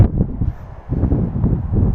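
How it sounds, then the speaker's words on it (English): Low, blustery wind on an elevated site in Washoe Valley rumbles steadily against the microphone, with gusts rising and falling throughout and no voices. "as you can probably hear, it's a little bit windy"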